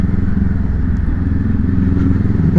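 A motorcycle with a new exhaust being ridden along a road: a close, steady, throbbing engine drone with a pulsing rhythm and some clattering wind noise, no voices.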